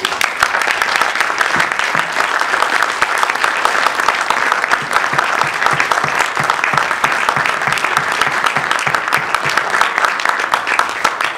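An evening political event audience gives loud, continuous applause, many hands clapping in a dense, evenly sustained roar with crisp individual claps audible throughout, no voices over it.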